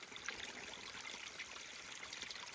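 Water trickles steadily at a trail water source near a creek shelter in the North Carolina mountains, a continuous close splashing flow with no voices.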